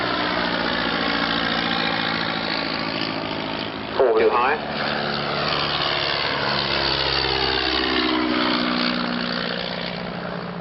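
Vintage de Havilland aeroplane engine running steadily at the Shuttleworth Collection, Old Warden, a continuous droning hum throughout with someone speaking over it.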